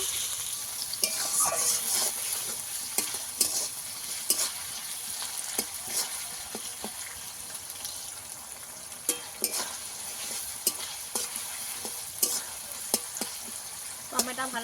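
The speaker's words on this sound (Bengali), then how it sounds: "রাখা আদা পেঁয়াজের সঙ্গে ভালো করে আদা টমেটো ভালো করে ভেজে নেব" Ginger, onion and tomato fry in a pan for doi bhetki, a Bengali yogurt fish curry, giving a soft continuous sizzle with repeated sharp clicks of a spatula stirring, fairly quiet and close.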